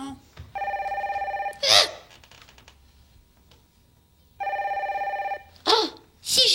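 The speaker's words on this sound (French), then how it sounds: "Oh, si je répondais au téléphone." Old-fashioned telephone bell ringing indoors in two long, loud bursts separated by a pause, with a woman's brief exclamations and soft movements in between.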